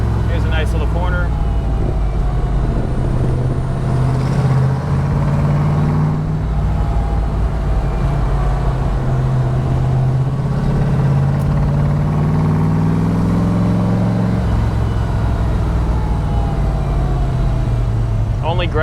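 A 1965 Factory Five Cobra replica drives along, its engine rumbling low and loud with rising and falling revs through gear changes, while someone talks over it.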